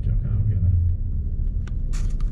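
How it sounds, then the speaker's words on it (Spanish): Low, heavy thunder rumbles continuously as a storm approaches outdoors, loud and deep, with wind and a few brief sharper noises near the end. "está tronando bien fuerte y lo que viene es tremendo aguacero"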